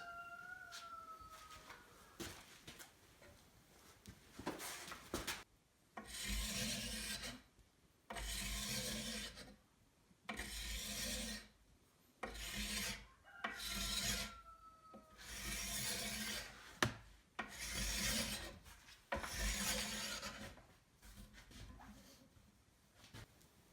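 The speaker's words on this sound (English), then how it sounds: "You can just scrape on it with it strung like this." Repeated strokes of a scraper along a strung wooden bow limb during tillering, about eight rasping bursts each lasting about a second, separated by brief pauses, close and fairly loud after a few quiet seconds.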